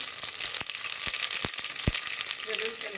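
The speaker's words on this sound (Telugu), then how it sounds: "నేను పచ్చడికి నువ్వుల నూనె తీసుకుంటున్నాను. వేడెక్కింది. జీలకర్ర వేసుకుందాం." Cumin seeds drop into hot sesame oil in a pan for tomato pickle and hiss in a steady close sizzle, broken by a few sharp pops and crackles.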